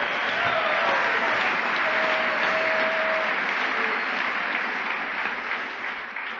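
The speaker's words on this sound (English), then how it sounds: "You're clapping for yourselves" An audience claps steadily at an AA speaker meeting, a dense, sustained wash of applause from a full room that slowly thins out toward the end.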